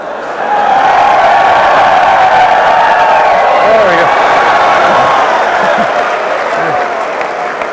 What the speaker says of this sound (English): When they cheer for you, you got to flex. So let's try that one more time.